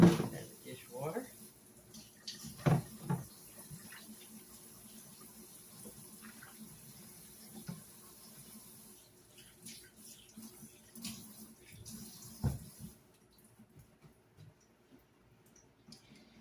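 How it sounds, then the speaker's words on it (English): Tap water runs into a kitchen sink to fill it with soapy dishwater, a soft steady flow with occasional clinks and bumps, heard close and fading out near the end. "Add the dishwater."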